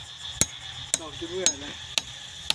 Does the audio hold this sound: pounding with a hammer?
yes